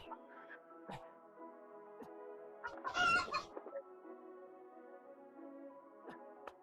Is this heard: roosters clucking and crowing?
yes